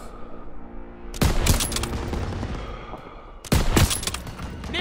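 Call of Duty WW2 combat erupts in two heavy bursts of rapid gunfire, loud and close, separated by a stretch of rumbling battlefield noise and scattered shots.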